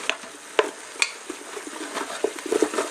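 A spoon scrapes and clinks in a hot pan while burger remnants with garlic and a bit of onion fry, a quiet sizzle under sharp, irregular taps of metal on metal.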